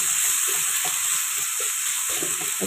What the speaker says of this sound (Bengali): আর সাথে আদা রসুন পেস্ট দিয়ে দিল। এই যে মিক্স করছে,